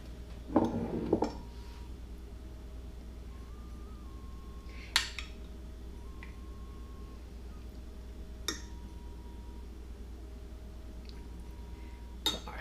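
Spoon scooping an avocado and cilantro mix while assembling mayo nori rolls, with a few scattered clinks and taps against a bowl separated by quiet pauses.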